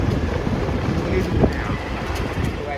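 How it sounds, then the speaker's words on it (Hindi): Strong gusting wind roars and buffets against the microphone, with a voice speaking through the turbulent noise. "बहुत तेज़ आंधी आ रही है, बहुत ज़्यादा।"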